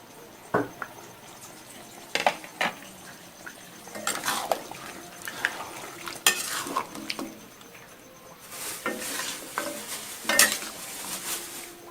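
Chicken red curry with coconut milk being stirred in a pan, irregular scraping knocks of a utensil against the pot over a faint simmering sizzle, fairly quiet and unaccompanied by voices.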